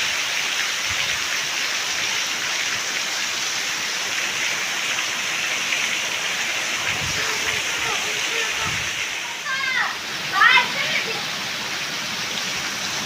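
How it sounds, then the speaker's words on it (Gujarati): Heavy rain pours down steadily over a village, a dense, continuous close hiss throughout, with a few brief voices rising near the end. "સારામાં સારો વરસાદ પડે છે અત્યારે, જમાવટ થઈ ગઈ છે વરસાદની"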